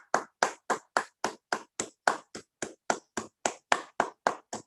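Claps ring out one by one in an even run of about seventeen over a few seconds, close and crisp like a single pair of hands, offered to welcome Anoop Verma at a webinar.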